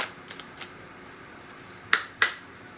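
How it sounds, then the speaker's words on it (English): Mantegna Tarot deck being handled and shuffled, quiet soft riffling with a few faint flicks, then two crisp sharp card snaps close by. "I'm going to shuffle these cards, and then I'm going to cut them"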